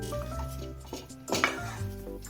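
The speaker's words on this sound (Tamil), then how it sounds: "அதனால இந்த மாதிரி நல்லா கிளறிடுங்க." Spoon stirring jackfruit rava kesari in a metal pan, giving close scraping and clinking against the pan in quick irregular strokes with one louder scrape partway through, heard on its own.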